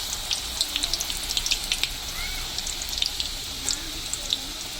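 Pakora frying in very hot oil, a steady bright crackling sizzle with rapid popping bursts, close and fairly quiet.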